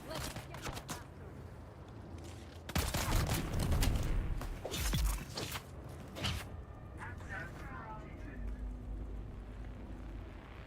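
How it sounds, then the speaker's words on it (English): Bursts of gunfire in the video game Dune Awakening, a cluster of sharp cracks and rattling shots mid-clip amid game ambience, with speech-like sounds around it. "Stop shooting at me."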